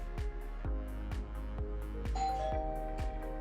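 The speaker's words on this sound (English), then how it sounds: "When the doorbell rings, you should hear a tone now after setting up the chime setting." A QuantumVision Pro doorbell chime rings indoors, sounding a quick series of bright, bell-like struck tones that repeat at a steady pace and overlap as each one decays, over a low constant hum.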